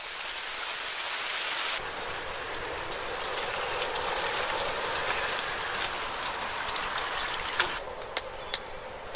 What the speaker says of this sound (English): you can hear the rain beating down on the plastic.